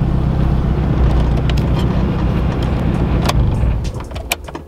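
A Honda Civic EG's engine runs under throttle in a loud, rough, steady roar with wind buffeting, tapering slightly at the end alongside a few short clicks.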